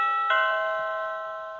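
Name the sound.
animated Halloween doorbell prop ringing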